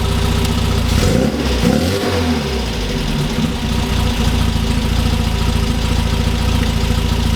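A 1967 MGB GT engine runs loud and close throughout, with a rising rev around the one-second mark before settling back into a steady, rough idle.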